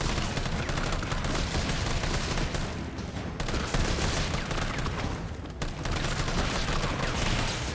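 Dense video-game gunfire and combat noise from Resident Evil 3 Remake, a loud continuous barrage of overlapping shots and blasts with brief dips, no voices over it.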